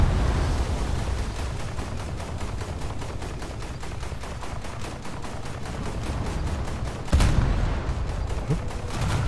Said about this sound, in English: The spam from low caliber autocannons.